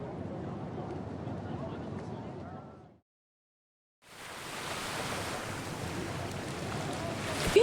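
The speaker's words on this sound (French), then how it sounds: "le navire fend les vagues à toute allure" Ship sailing fast through ocean waves, a broad rushing wash of surf and wind noise that cuts out briefly to silence, then returns louder and fuller, close and continuous.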